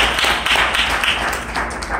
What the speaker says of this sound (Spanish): Denle un aplauso al Señor, hermanos.